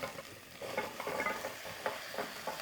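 Soft stirring and sizzling of potatoes, garlic and chili flakes sautéing in a pot, with occasional scrapes of a utensil against the metal, quiet and steady.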